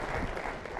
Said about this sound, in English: Let's give a round of applause for the conference organizers and the staff for providing that.